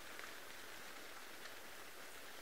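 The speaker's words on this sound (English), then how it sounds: "He is definitely not enjoying the rain, you can tell." Steady rain falling at a safari wildlife park, a dense, even hiss of drops with no pauses, faint and continuous throughout, no voices.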